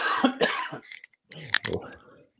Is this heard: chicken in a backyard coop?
no